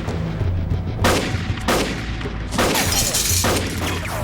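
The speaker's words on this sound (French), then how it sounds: "Fusillade." Gunfire from a shootout scene in the film Road House 2, several loud sharp shots spaced roughly half a second to a second apart over dense, noisy action-scene sound.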